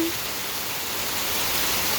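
Steady rain falls over a durian orchard garden in the rainy season, a continuous even hiss of drops with no breaks, fairly close and alone without voices.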